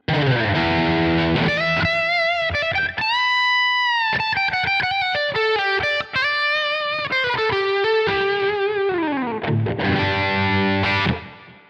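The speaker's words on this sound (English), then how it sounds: "I can even kind of have a more of a lead tone." A distorted electric guitar lead tone through a Tonex One with an XSONIC Airstep switcher plays a loud, sustained melodic line with held notes, bends and quick runs, alone without talk.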